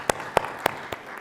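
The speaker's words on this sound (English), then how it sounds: "And a round of applause" Only four separate, distinct claps are heard after a conference panel, spaced about a quarter second apart and fairly close, over a quiet room with no crowd swell.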